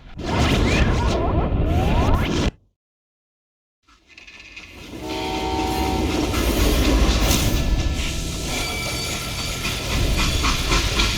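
A steam train in the Western video game Call of Juarez: Gunslinger rumbles and hisses loudly, cuts to brief silence, then comes back with a steady rolling rumble and faint horn-like tones.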